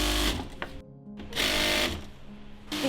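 A sewing machine runs in close, loud bursts of rapid mechanical stitching, stopping and starting several times within a few seconds.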